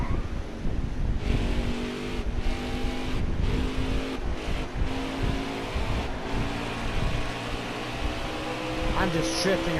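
A race car engine drones and revs while sliding sideways around the New Hampshire track in the video game NASCAR Heat 4, a continuous roar with shifting pitch as a player talks over it.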